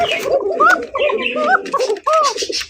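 A red Basiraj pigeon coos repeatedly in a thin, high tone, a series of close, rising and falling calls with short breaks, heard under nearby speech.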